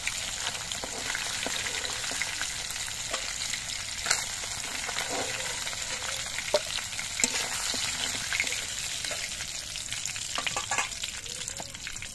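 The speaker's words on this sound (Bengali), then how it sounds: "একইভাবে আমি বাকি মাছগুলো ভেজে নিচ্ছি।" Kokila fish (garfish) frying in hot oil in a pan, giving a steady, dense sizzle throughout with small pops and spatters. No one speaks.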